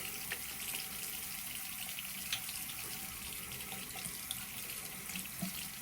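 Warm water runs steadily from a bathroom tap while someone brushes their teeth, a constant splashing hiss lasting several seconds with no voices over it.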